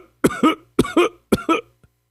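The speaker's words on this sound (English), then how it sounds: "you start coughing violently" Three harsh, forceful coughs, each a quick double burst, spaced evenly with short pauses, close and loud.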